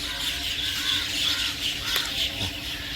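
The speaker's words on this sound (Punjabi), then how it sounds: "ਆ ਹੁਣ ਚਿੜੀਆਂ ਬਹੁਤ ਆ ਕੇ ਇਹਦੇ ਤੇ ਬਹਿ" Many sparrows chatter and squawk in a dense, continuous cluster of small calls from an old banyan tree at dusk, heard from a short distance at moderate volume.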